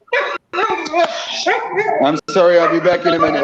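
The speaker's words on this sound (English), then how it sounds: "I'm sorry about the noise. These are my dogs." Pet dogs barking and yipping loudly and close by, in short overlapping bursts and whimpers, while someone speaks over them.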